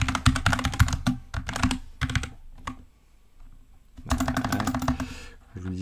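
Rapid clacking of mechanical computer keyboard keys in dense bursts while coding, with a short quiet pause in the middle before fast typing resumes.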